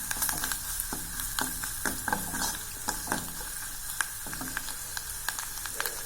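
Coriander fries in hot oil in a pan while egg varuval is cooked, a soft, steady sizzle broken by irregular scrapes and clicks of stirring, fairly faint and with no voices.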